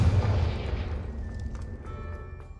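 A Confringo fire spell goes off in Hogwarts Legacy as a heavy booming blast right at the start, its low rumble fading away over a couple of seconds into quiet, with light chiming tones trailing behind.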